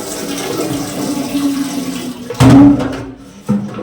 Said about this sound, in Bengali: ফিল্টারের জলটা ভরে ফিটকারি দিয়ে রাখবো।